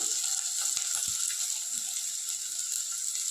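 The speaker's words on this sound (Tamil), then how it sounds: "அதையும் சேர்த்து ஆட் பண்ணி நல்லா வதக்குங்க வெங்காயம் நல்லா வதங்கிட்டு வருது" Chopped onions sautéing in a pan for white channa masala, a steady soft sizzle and frying hiss running throughout with faint stirring clicks, close and alone.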